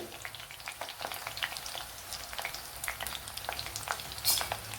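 Bitter gourd fries in hot sesame oil with a quiet, busy crackle, many small pops and spatters over a steady sizzle, one brighter spit near the end.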